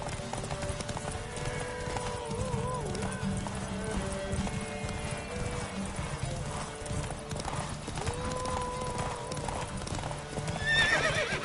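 Roach, the horse from The Witcher video game, gallops in fast rhythmic hoofbeats with a whinny near the end, all under music and a voice.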